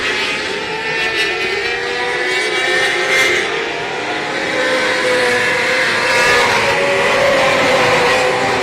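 Dwarf cars in a heat race at Texana Raceway Park, a steady loud roar of several engines passing with rising and falling pitch, no talk over it.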